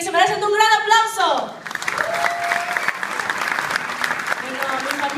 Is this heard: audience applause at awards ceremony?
yes